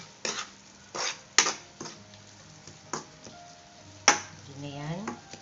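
Pork and alamang shrimp paste cook in a pan with a spoon scraping and tapping the metal in separate knocks, while a faint sizzle runs underneath.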